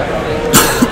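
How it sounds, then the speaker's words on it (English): A person coughs a couple of times in short bursts, close and moderately loud, in an indoor setting during a baseball card case break. "this cough is starting to worry me"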